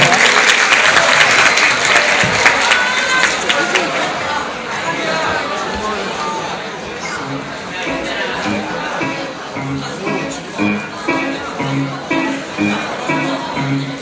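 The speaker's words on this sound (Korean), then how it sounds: "박수 한번 주세요" An audience at a middle school arts festival family presentation claps loudly for a few seconds. The applause gradually thins into scattered claps, then murmured chatter and talking voices take over.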